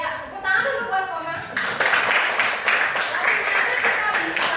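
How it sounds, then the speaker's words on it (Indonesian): Classmates clap for a student during a maths lesson in an Indonesian classroom; a voice speaks first, then a burst of brisk, slightly uneven clapping starts abruptly and carries on for about three seconds. "Ya, tepuk tangan dulu buat Koma"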